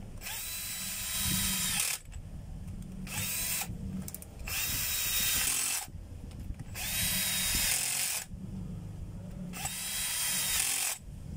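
A power drill driving a screw in several bursts of whirring, each about one to two seconds long, separated by short pauses, close and fairly loud with no talk.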